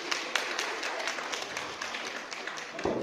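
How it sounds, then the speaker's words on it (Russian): Soft, steady applause from a small indoor audience at a realtors' negotiation-games club training session, continuous dense patter throughout, fairly faint and distant. "аплодисменты"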